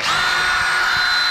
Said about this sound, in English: You're gonna drill into that.